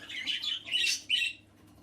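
Small bird chicks in a coop nest giving a few short, high squawking calls in quick succession, close and fairly quiet against a low background hum.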